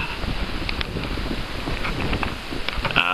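Rain falls outdoors in Ireland in a steady, close hiss, with scattered drop ticks and gusts of wind noise throughout.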